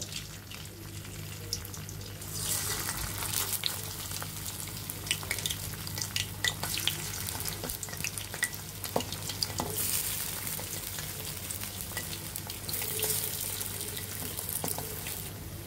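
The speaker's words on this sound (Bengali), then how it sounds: "এখন আমরা তেলে ভেজে নিব। কড়াই গরম হয়ে গিয়েছে, তেল দিয়ে দিয়েছি।" Home-made Bombay-style street food fries in hot oil in a heated wok. After a quiet start, a loud, continuous hissing sizzle takes over, with small pops and crackles, and swells again near the end.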